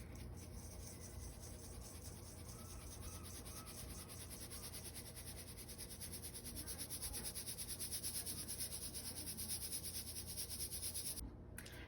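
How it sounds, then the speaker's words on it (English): Flour and sugar for scones are sifted in a kitchen, giving a quiet, steady scratchy rubbing with a soft rhythmic pulse that grows slightly stronger toward the end, close and faint with no talking. "we're just going to sift all of this, which will help the scones be nice and fluffy"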